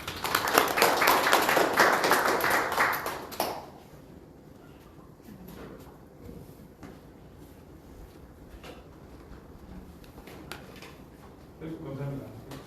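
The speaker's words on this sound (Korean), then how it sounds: "큰 박수로 한번 받으시죠." Audience at a webtoon industry symposium in Ulsan applauds loudly for about three seconds, then it fades into quiet room noise with scattered faint sounds and a brief voice near the end.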